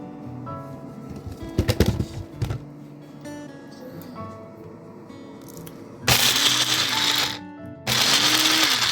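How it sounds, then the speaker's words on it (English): Quiet clatter and rattling, then a small kitchen blender roars loudly in two bursts blending ingredients for Mbongo Tchobi, a Cameroonian black stew, pausing briefly between them. "use the smaller blender to blend these ingredients first"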